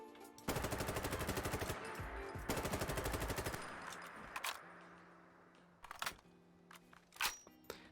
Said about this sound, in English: So let's go ahead and start with the standard reload.